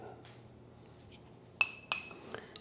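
A spoon stirs a dressing of rice vinegar, sugar, sesame oil and homemade chili oil in a bowl, making a few sharp, close clinks near the end over quiet room tone, with no talking.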